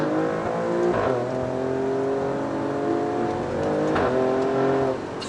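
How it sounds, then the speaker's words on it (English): An Alfa Romeo Stelvio Quadrifoglio all-wheel-drive SUV accelerating hard from a green light, its engine climbing steadily in pitch through the gears with a couple of brief shift dips, loud and continuous from inside the cabin. "So I'll do a nice hard acceleration right here when this turns green."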